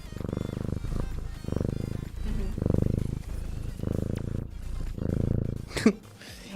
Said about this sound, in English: You purr so loud.